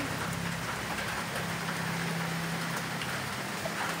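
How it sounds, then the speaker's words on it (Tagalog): Steady rain falls outdoors while corn is being cooked, an even, continuous hiss of drops on surfaces, fairly loud and constant, with a faint low hum beneath. "Ito yung ulan."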